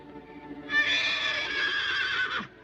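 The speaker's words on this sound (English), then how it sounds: "It's just an old horse, Winnie." An old horse neighs at night, a single loud whinny lasting nearly two seconds with a trembling, descending tail, standing out clearly over a quiet background.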